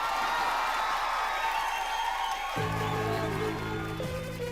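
Studio audience applause for Shakeel, Shruti and Pooja, a dense steady wash of clapping that fills the whole stretch with music underneath.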